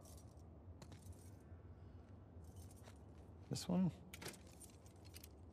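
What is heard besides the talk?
keys jangling in The Last of Us Part II video game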